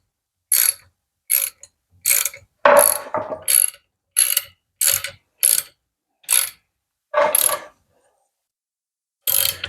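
A rivet nut tool is turned with a socket to set it into sheet metal, giving about a dozen separate, loud ratcheting clicks in short bursts with silent gaps between them.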